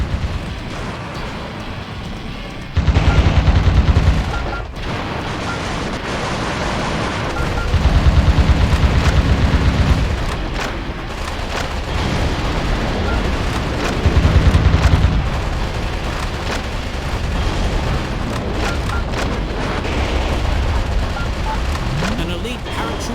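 Gunfire rattling across a Metal Wolf Chaos XD battlefield as enemy paratroopers drop in, with steady combat noise and three heavier, louder bursts of shooting or blasts standing out among the continuous action.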